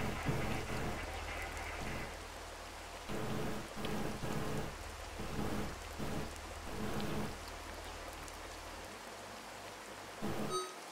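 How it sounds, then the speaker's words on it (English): Steady rain falling in the strategy video game Regiments, a continuous broadband hiss with soft surges and scattered drop ticks, heard alone with no talk. "Looks like there's rain here."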